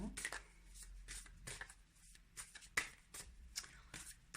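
Tarot cards are shuffled and drawn by hand in quick, papery bursts of riffling and flicking, close and fairly soft, repeating in short clusters with brief gaps.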